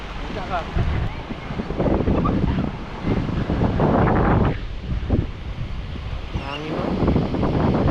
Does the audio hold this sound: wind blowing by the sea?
yes